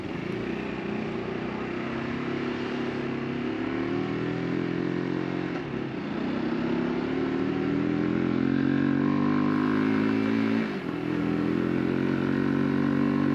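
A UM X Street RS125 motorcycle engine runs close and loud, rising and falling through several revs with short dips between, its rough throbbing drone filling the whole stretch with no talk.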